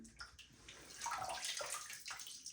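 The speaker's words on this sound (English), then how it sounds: "rinse the face a little because we've been talking" Face rinsed with water at a sink during a wet shave: soft splashing and sloshing of cupped water, close and fairly quiet, in uneven bursts with no talk.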